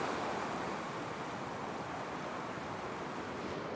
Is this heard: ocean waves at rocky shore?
yes